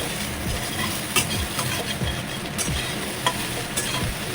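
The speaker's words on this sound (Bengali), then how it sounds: "ভাজা অলরেডি কমপ্লিট হয়ে গেছে সোয়াবিন ভাজাটা" Soybean chunks fry in a pan with a steady close sizzle and repeated scraping stir strokes, no voices.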